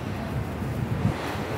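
Steady rushing wind with a low roar of surf underneath, continuous and fairly loud, with no voices.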